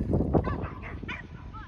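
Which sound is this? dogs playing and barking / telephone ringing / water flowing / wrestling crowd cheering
dogs playing and barking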